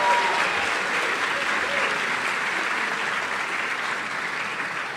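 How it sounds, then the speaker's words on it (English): Steady, full applause from an audience at an annual awards ceremony, a continuous wash of many hands clapping at even loudness for the whole stretch, with no voices standing out. "give them a warm round of applause for their work throughout the year."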